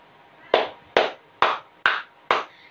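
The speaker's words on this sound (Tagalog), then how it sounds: "Ngayon ay nais kong bigyan ninyo ng 5 palakpak ang inyong mga sarili" A classroom of students claps five times in unison, five sharp, evenly spaced group claps standing alone in a quiet room with no talking.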